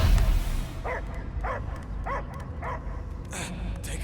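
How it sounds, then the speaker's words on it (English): A dog barks in Guardians of the Galaxy, with about six short, evenly spaced barks over a low rumbling game background and no talking over them. "I hear only barking"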